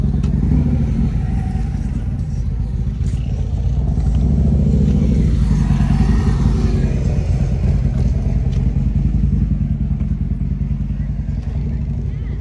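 Motorcycles idle and rumble at a bike run in Taunton, Massachusetts, a continuous loud low engine drone with rough clattering texture and a slight swell midway, with voices talking faintly in the background.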